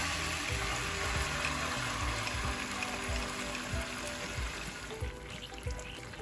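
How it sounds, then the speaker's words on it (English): Hoisin sauce warming in a pan over low heat after garlic was fried in it, a continuous close sizzle and bubbling hiss with soft pops, with no talk. "Using low heat and in the same pan, add in your hoisin sauce."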